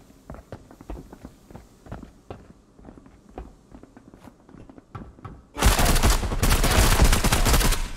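Rapid gunfire bursts in a multiplayer shooter match, a dense loud volley erupting after several seconds of quieter footsteps and scattered shots.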